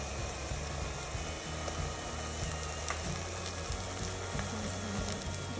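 Green chillies drop into onions frying for Old Dhaka tehari, giving a steady close sizzle with faint clicks of a utensil throughout, and no talking.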